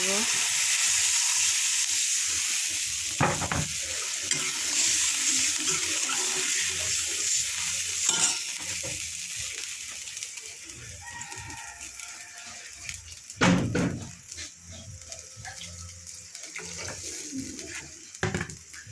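Water poured into a pan of fried potatoes while cooking a thin fish and potato curry, giving a steady loud sizzle and bubbling with a few sharp clatters and stirring knocks partway through.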